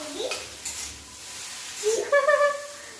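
Egg noodles are stirred in a pan after soy sauce, vinegar and chilli sauce go in, producing soft sizzling with a few scraping stirs and light clinks of utensil against metal, close by.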